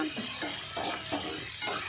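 Prawns frying in oil in a pan, sizzling steadily while a utensil stirs them in repeated scraping strokes, close and clear with no talk.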